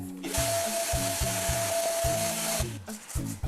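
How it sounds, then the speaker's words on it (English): A knife scrapes loose cement grout out of tile joints, a steady grinding rasp in repeated close strokes of about half a second, with a sustained whining tone running through the middle of the passage. "Remove all loose cement and cement grout with a knife."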